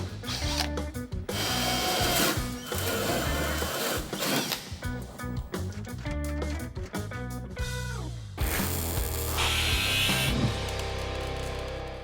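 A power drill whines in repeated bursts as holes are bored into the metal body of a BMW 330i race car, with short pauses and rattling between runs.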